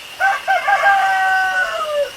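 A rooster on a farm crows once, loud and close, with a rising, stuttering start that stretches into a long held call before trailing off.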